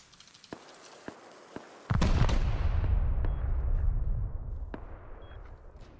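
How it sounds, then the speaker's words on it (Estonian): In the video game Rust, a satchel charge explodes with a loud, booming blast that rumbles and slowly decays, preceded by several sharp, faint pops and followed by a few more distant cracks. "Thanks for the satchel charge."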